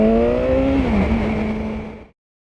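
A 2019 BMW S1000R motorcycle engine held on its pit lane limiter gives a steady close buzzing drone that dips slightly in pitch partway through, then cuts off abruptly.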